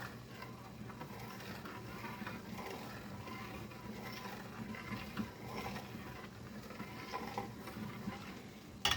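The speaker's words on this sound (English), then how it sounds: "Every so often, just give it a stir, nice and calm, nice and gentle" Slow, gentle stirring of crème brûlée custard in a pot on the stove, a steady soft scraping and faint mechanical clicking that runs continuously with no talk.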